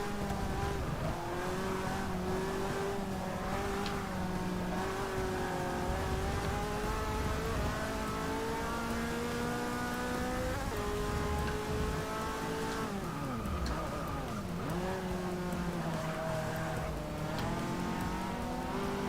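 Race car engine heard from the cockpit camera in Forza Motorsport 6 at Catalunya, a loud, steady drone that climbs and drops through gear changes, with tire squeal mixed in and no voices.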